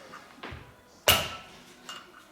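A metal socket is knocked down over the valve collets on a Classic Mini 1100 cylinder head, giving one sharp, close metallic tap amid a couple of softer knocks.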